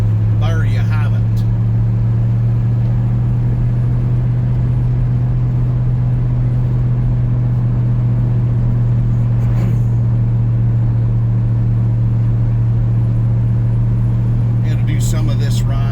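A Ford Crown Victoria P71 police interceptor on 16-inch wheels cruises the interstate, heard as a constant low engine and road drone from inside the cabin, steady and loud throughout.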